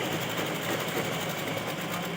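Steady, continuous whir of a sewing machine stitching the side seam of a ghagra fabric for a Rajputi poshak, loud and close with an even mechanical hum throughout and no talking.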